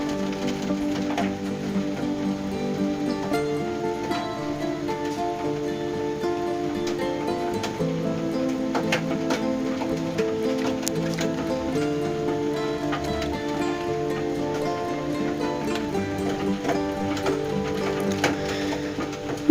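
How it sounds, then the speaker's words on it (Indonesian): Heavy rain drips and patters onto an air conditioner unit with an irregular clattering tapping, steady and moderately loud, mixed with faint background music. "suara air yang kletak-kletak gitu, jatuh ke apa tuh, mesin AC gitu, jadi agak sedikit berisik ya"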